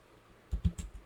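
Several quick keystrokes tapped on an HP ProBook 430 G7 laptop keyboard, four close, distinct clicks after a brief quiet moment, at moderate level with no talk.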